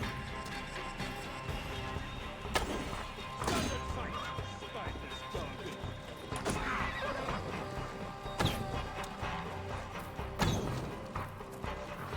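Horse in the video game Assassin's Creed Valhalla, set during the Siege of Paris, gives repeated loud neighs and whinnies amid battle clatter, thuds and hoof noise, with voices heard throughout.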